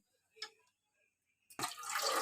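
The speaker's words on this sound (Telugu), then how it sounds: "నేను ఇంకొంచెం నీళ్ళు వేస్తానండి వేసేసి కుక్కర్లో పెట్టేస్తాను" A couple of faint clinks, then water suddenly pours in a steady rushing stream into a pressure cooker, close and fairly loud.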